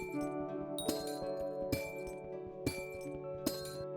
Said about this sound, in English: Those annoying glass sounds were replaced by the 117 amethyst sounds.